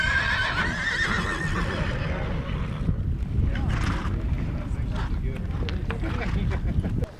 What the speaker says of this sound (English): The horses come charging out of the big holding corral